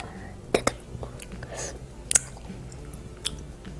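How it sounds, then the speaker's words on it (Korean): Close, wet chewing of soft rice cakes from a bowl of tteokguk at a mukbang meal, with a few sharp clicks and faint breathy vocal sounds. "저는 떡만 먹겠습니다"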